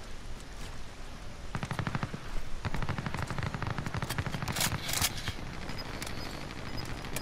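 Turret machine gun fire in a video game, several long rapid bursts of rattling automatic shots over a constant battle rumble, loud and close with no talking.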